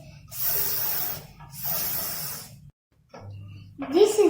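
A voice imitates a hissing s sound twice in a row, each a sustained breathy hiss of about a second, close and clear, followed by a short low hum and the start of speech.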